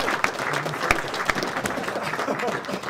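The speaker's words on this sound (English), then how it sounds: "Bobby Razak, round of applause" An audience at a mixed martial arts press conference breaks into steady applause, a dense clatter of clapping from a room full of people with some voices underneath.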